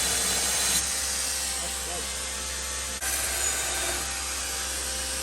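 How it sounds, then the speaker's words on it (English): An angle grinder grinds the metal of an axe with a loud, steady, hissing whine. It runs almost without pause, with a brief dip near the middle, and faint talk sits underneath. "Tim likes the grinder from Alex Steele."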